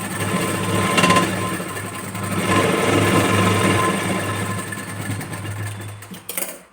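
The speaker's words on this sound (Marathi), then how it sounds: "5 इंच अंतरावर मी इथे स्टिच करून घेते." Sewing machine stitching a button strip on a blouse, a steady close mechanical whir with a low hum that rises and falls in speed for several seconds before stopping, with no talk.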